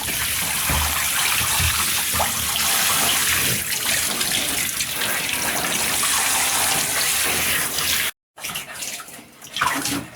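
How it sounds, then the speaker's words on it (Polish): Tap water runs steadily into a bathtub while a guinea pig is rinsed, a continuous close splashing gush that cuts out briefly near the end, then returns in softer bursts. "Teraz będziemy y, e, spłukiwać też Maja"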